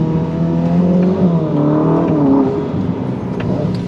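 A Ferrari SF90 Stradale accelerates hard, its engine note loud and close, climbing and shifting in pitch as it pulls, then easing toward a lower hum near the end.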